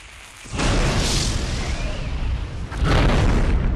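Artillery fire in the Warhammer strategy game Mark of Chaos: a loud booming blast rolls in after a brief quiet start, sustained rumbling roar with a second heavy burst near the end, no talking.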